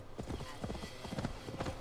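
Horse hooves clip-clop in a steady rhythm through a forest in Gloucestershire in Assassin's Creed Valhalla. The hoofbeats are close and fairly loud, with faint voices or game sounds beneath them.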